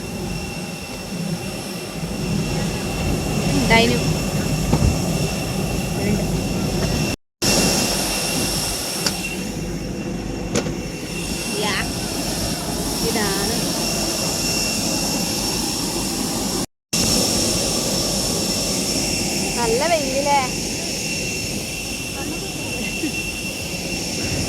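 Jet aircraft engines whine and roar at an airport while passengers board a flight in sunny weather, a steady loud drone with a high whine, under someone talking, with two brief dropouts.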